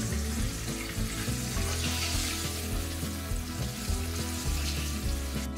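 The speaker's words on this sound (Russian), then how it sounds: "Отправьте курочку в разогретую сковородку с большим количеством растительного масла." Chicken bites frying in a hot pan with plenty of vegetable oil, a dense continuous sizzle and bubbling crackle, close and steady throughout with no voices.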